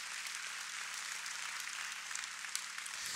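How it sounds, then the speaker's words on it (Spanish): A church congregation applauds together for God during a Spanish-language sermon, a steady, fairly faint wash of clapping that runs without a break and never builds to a peak. "Dale un aplauso a Dios por eso."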